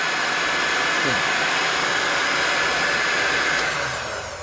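A heat gun blows steadily on a powder-painted fishing jig head to melt the coating, a continuous broadband hiss and whir that holds close and loud throughout, easing slightly at the end.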